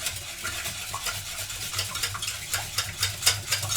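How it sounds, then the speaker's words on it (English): Five eggs are beaten quickly in a bowl, giving a steady, close rhythm of fast sloshing strokes with light taps against the bowl. "So I have 5 eggs, and I'm going to just quickly beat them up."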